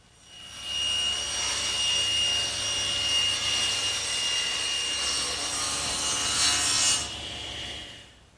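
A table saw rips long plywood strips for bookcase shelves, a loud steady whining cut that holds for about six seconds and then winds down.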